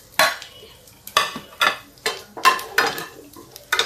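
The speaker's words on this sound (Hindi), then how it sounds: "तेल में अब हम ये सारे मसाले डाल देते हैं।" Tomato paste and garlic-onion paste spices tipped into hot oil, heard as a rhythmic run of bright sizzling bursts and stirring scrapes, each swelling and fading about twice a second, close and fairly loud.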